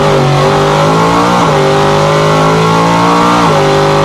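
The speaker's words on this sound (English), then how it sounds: "here is an engine with a set of standard headers" A car engine fitted with standard headers revs loudly and continuously, its pitch rising and dipping twice as the throttle is blipped, close up with no talking.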